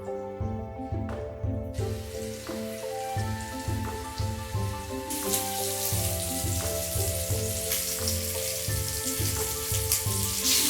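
Floured mackerel dropped into hot oil in a pan, a steady crackling sizzle that swells louder partway through, heard beneath continuous background music with no talk.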